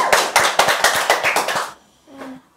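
A quick run of about seven hand claps, close and loud, then a brief faint vocal sound.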